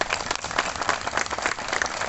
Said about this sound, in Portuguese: Vamos aplaudir o casal?